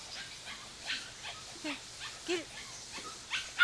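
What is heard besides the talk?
eight-week-old puppy whimpering and barking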